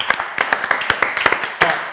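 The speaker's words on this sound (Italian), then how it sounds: "Lo facciamo un applauso a Pino." Scattered applause from a small studio audience at an Italian café-themed TV show, a few uneven hand claps rising and falling over two seconds, fairly close.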